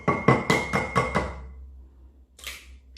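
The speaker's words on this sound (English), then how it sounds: "Crack it on the edge and then you stick your thumbs where the crack is" An egg cracked against the edge of a bowl while cooking scrambled eggs, heard as a quick series of sharp taps followed by a brief crisp crack.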